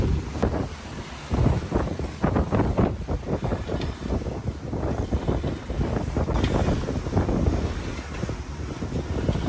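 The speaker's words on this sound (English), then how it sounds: "We had a lot of head-on seas and wind" Strong wind buffets a sailboat beating into rough head-on seas on a passage from the Turks and Caicos to the Dominican Republic, with continuous roaring wind noise and repeated thudding wave impacts throughout.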